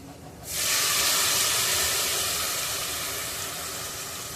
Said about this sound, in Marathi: आता आपण उकडलेली मुगडाळ घालून घेऊया